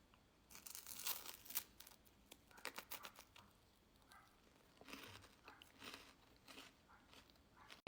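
Someone bites into a Kinder Bueno, a chocolate-coated wafer bar with a white and milk chocolate filling, then chews it close up with soft, irregular crunches and crackles.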